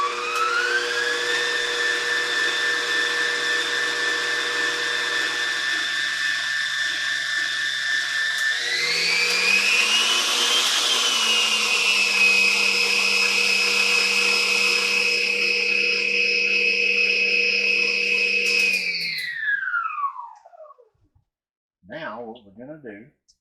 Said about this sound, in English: I'm going to put the dough hook on at this time, because everything else is pretty much set. We're going to start mixing it.